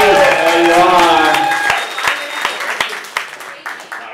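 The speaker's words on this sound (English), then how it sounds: "Let's hear a louder A one." Audience applause at a science communication event, a loud burst of clapping mixed with cheering voices that quickly thins into a few scattered claps and fades.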